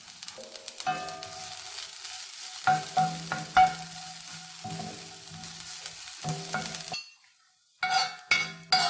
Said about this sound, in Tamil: நம்ம செதைச்சி வச்சுருக்கிற பூண்டை சேர்த்திக்கோங்க. ஒரு 2 நிமிஷம் வதக்குனீங்க அப்படின்னா இது பொன்னிறமாக வதங்கிடும்.